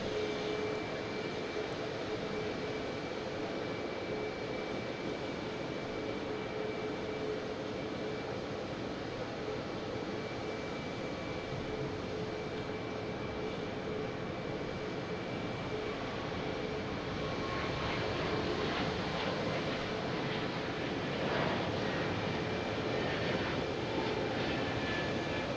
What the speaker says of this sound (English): We should be getting this JetBlue heading to Denver in A220.